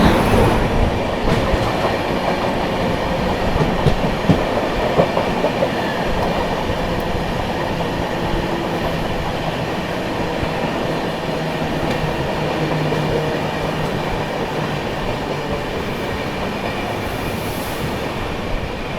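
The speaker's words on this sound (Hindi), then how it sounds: "अभी कानपुर शताब्दी भी आ रही है सामने से, तो उसके साथ आप लोगों को क्रॉसिंग दिखाते हैं।" A Kanpur–New Delhi Shatabdi Express crossing close by, heard from a moving train near Tundla Junction: a loud, steady rolling roar of wheels and carriages with faint clatter, going on without a break.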